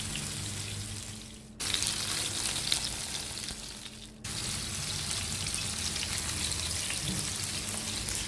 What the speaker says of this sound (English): You want to put some olive oil, a generous amount, and then we're going to cook on both sides for about 6 to 5 minutes.